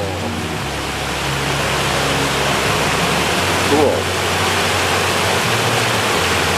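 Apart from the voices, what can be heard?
waterfall rushing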